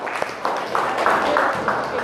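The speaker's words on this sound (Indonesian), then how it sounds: "tepuk tangan untuk kelompok 4" A classroom of students claps for group 4 after their presentation, a short burst of lively clapping with an uneven rhythm, mixed with voices.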